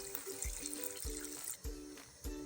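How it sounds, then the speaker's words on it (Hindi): Water pours into a pot of chicken biryani base with cooked-down tomatoes, a faint trickling splash broken by a few short gaps as the glassfuls go in. "अब हम इसमें पानी डालेंगे।"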